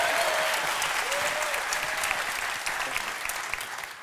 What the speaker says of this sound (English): so please do give her a round of applause